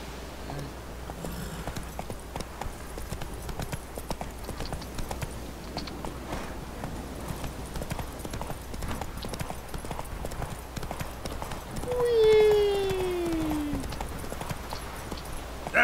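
Horse hooves clip-clopping steadily in The Witcher 3 as the mount Roach rides along, a rhythmic patter over game ambience, with a brief whinny-like call near the end.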